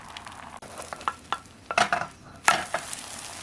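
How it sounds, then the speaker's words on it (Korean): Beaten egg mixture hits an oiled frying pan, giving bursts of sizzle and clatter among softer stirring and scraping sounds, close and moderately loud. "식용유를 둘러야죠. 이제 계란물을 넣습니다."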